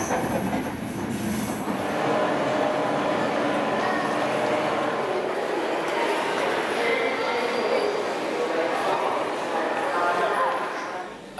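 Steady rumble and rattle of a moving train carriage, with wheels squealing on the rails and faint voices in the background.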